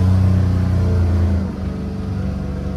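A Corvus DX4 Pro EPS farm buggy engine drones loudly and steadily while driving, its pitch dropping slightly midway, with no talk over it.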